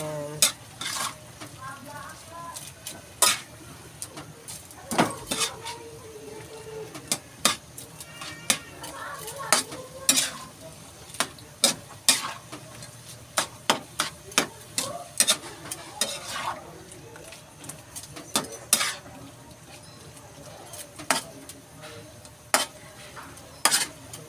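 Sautéed pechay greens stirred in a pan with a spatula, sharp scraping clacks repeating every second or two over a soft steady sizzle, close and loud.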